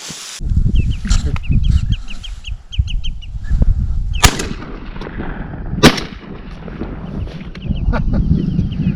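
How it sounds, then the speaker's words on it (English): Gunfire during a duck hunt near willows in the Alaskan outdoors: two sharp, loud shots stand out over a steady background of rustling, with bird calls chirping intermittently throughout. "Pretty poor shooting there."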